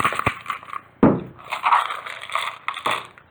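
Small jingle bells and sequins rattle and clatter inside a bottle in several quick shaking bursts, close by, with no talking.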